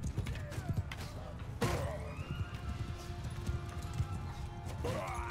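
Horses of horse archers gallop in Mount and Blade 2 Bannerlord, with hoofbeats and whinnies mixed into busy battle noise, a sharp crash near the middle and more impacts toward the end.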